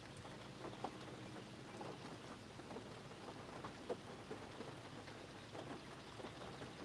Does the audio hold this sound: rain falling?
yes